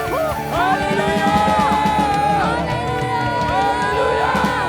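A church congregation at a worship celebration cheers and shouts together as a loud crowd, with whoops and yells over a steady roar of voices that lasts throughout.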